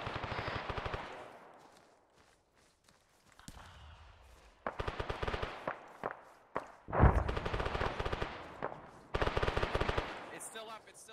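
Tank and weapon fire in an Arma 3 battle: bursts of loud automatic gunfire and heavy booms come in waves, separated by brief lulls and decaying echoes, with some voices mixed in.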